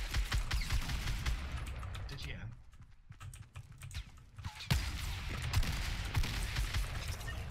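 Rapid gunfire from the video game Fortnite crackles in dense bursts, with a brief lull midway, under loud keyboard clatter and players talking over voice chat.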